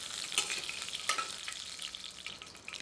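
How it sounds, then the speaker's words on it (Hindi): Curry leaves, 8 to 10 of them, fry briefly in hot oil with whole spices, making a steady crackling sizzle with small sharp pops, close and moderately loud with no voices. "अब इसमें 8 से 10 करी पत्ता डालकर कुछ क्षण भूनते हैं ताकि इनका स्वाद तेल में विलीन हो जाए।"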